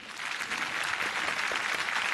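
A studio audience on a Marathi TV singing contest claps hard after a dholki drum performance, sustained, even applause filling the room, with a faint voice beneath.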